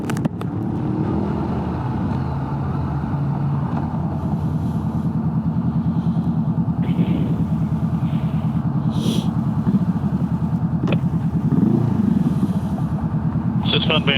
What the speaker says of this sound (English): It's fun being back on the sport bike.